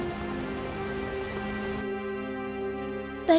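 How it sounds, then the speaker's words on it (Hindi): Heavy rain pours steadily in a cartoon sound effect, a dense continuous patter that thins after about two seconds, ending with a brief brighter splash. "बारिश भी तेज थी"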